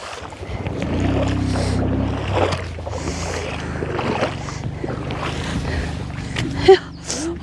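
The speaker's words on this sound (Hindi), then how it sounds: "आराम से पानी का बहाव थोड़ा बहुत ही तेज़ है, बिल्कुल ठंडा पानी है।" Fast, ice-cold mountain stream in Ladakh's Puga Valley rushing steadily around someone wading across, a continuous close churn of water with a brief sharp splash near the end.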